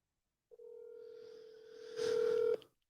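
A phone keypad sends a long steady tone that ends in a brighter, louder burst of dialing tones, all close and clear with no voices.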